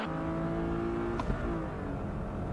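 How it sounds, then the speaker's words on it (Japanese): A Honda Integra with a VTEC engine spins its wheels hard at a standing race start, a loud, sustained engine roar with a rising whine and tyre noise, continuous and close throughout. "おっと、インテグラ大ホイールスピン"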